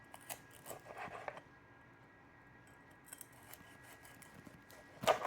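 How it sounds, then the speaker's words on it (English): Knife slicing through crispy smoked pork belly on a board, a few quiet crackly crunching cuts in short bursts with soft scraping between, close and faint. "right along where our cuts were made before, that's where we're going to cut it again this time"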